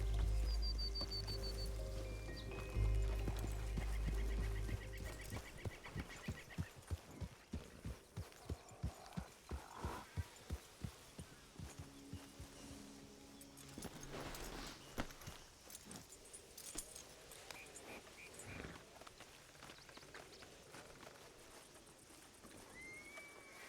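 A horse in the Western video game Red Dead Redemption whinnies at the start, then its hooves clip-clop in a quick rhythmic run that slows and thins out, with a few scattered later steps against quiet ambience.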